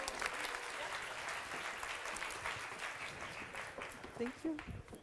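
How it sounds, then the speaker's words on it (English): Audience applause at a business event on women in business, a steady wash of many hands clapping that carries on for several seconds, moderately distant, with a few voices rising near the end. "So please give them a warm round of applause."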